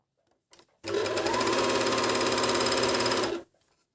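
A MEDION MD10685 overlock machine runs loudly and alone for about two and a half seconds while sewing a seam on fabric, with a dense, steady mechanical buzz that starts abruptly and stops cleanly.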